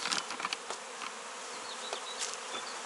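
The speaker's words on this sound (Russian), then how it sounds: "Видите, мы стряхнули пчелок сюда." Honeybees buzzing in the air after being shaken into a hive, a close swarm of droning wings with individual bees passing by in brief louder swells, no talk.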